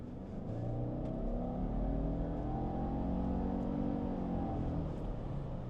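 A 2026 Subaru Outback's 260-horsepower Boxer engine under hard acceleration, a steady low drone that climbs in pitch as revs rise, heard from inside the cabin and fairly muted.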